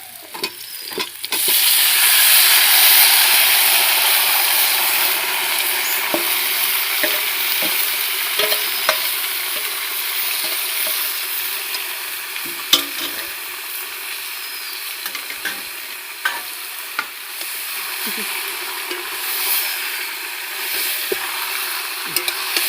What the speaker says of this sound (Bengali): তেলের মধ্যে দিয়ে দেব চিকেনগুলো।